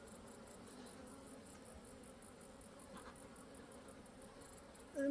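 Honey bees hum around an open beehive as a super is added. The buzzing is faint and steady throughout, and a brief louder knock comes at the very end.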